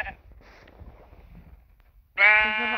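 A sheep in a video game lets out one loud wavering bleat near the end, after quiet rustling and soft background game sounds.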